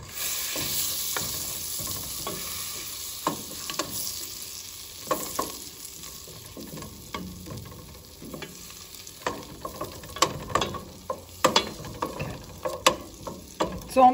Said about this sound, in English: come over here to my butter that's melting